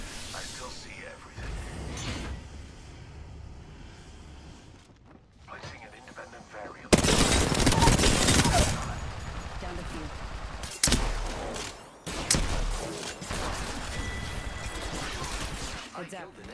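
Gunfire in the battle royale game Apex Legends comes in bursts of heavy shots and mechanical clatter, separated by quieter stretches, with a voice talking between the exchanges.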